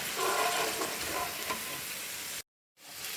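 Onion fries in a pan as the base for a prawn gravy, a close, steady sizzle with stirring scrapes that cuts out abruptly near the end before returning softly.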